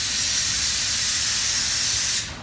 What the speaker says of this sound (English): I'm just going to go and blow it with the nozzle